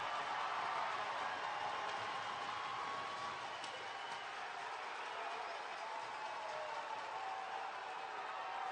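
Hockey arena crowd roaring in a sustained, dense wash of cheering and noise after a fight between Wheeling Nailers and Adirondack Thunder players, steady and loud throughout with no clear breaks.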